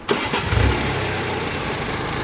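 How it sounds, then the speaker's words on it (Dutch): A BMW with an automatic transmission starts up with a short cranking burst, then settles into a steady, close idle during a transmission flush service. "En in de motor starten."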